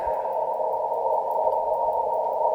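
An FTdx10 radio receiver gives a steady, loud band of static hiss, with faint, regularly repeating noise spikes ticking through it. No one speaks.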